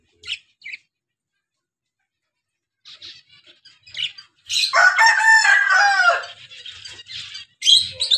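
Chickens in a mini zoo, including a black hen, cluck and chirp in short bursts against near silence, and a rooster's loud crow stands out before more scattered clucks.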